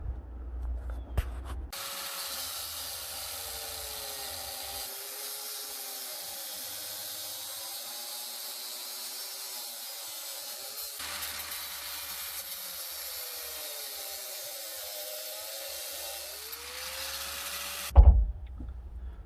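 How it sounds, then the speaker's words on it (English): A grinder cuts through PEX pipe with a steady, sustained whine that runs close and loud for most of the clip, its pitch wavering as the cut progresses, then stops with a short clatter at the end. "I'm gonna have to cut these with a grinder because my hacksaw is stored away"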